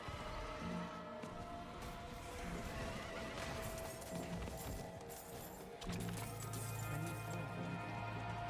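A horse in the Diablo 4 video game whinnies and gallops, the hoofbeats running as a steady, dense patter beneath a busy wash of game effects and music, fairly loud and continuous.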